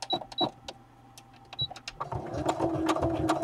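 A sewing machine running a straight stitch to join fabric to a pocket, heard in short whirring bursts that build into a denser, continuous run near the end, with no voices.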